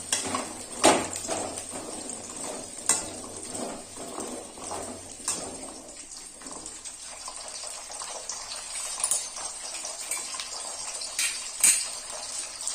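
Gooseberries sauté in hot oil in a pan while a gooseberry pickle is being made. A steady sizzling hiss runs throughout, broken by irregular clinks and scrapes of stirring. No one speaks.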